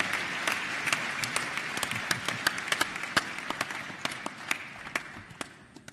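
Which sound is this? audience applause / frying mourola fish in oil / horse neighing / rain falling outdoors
audience applause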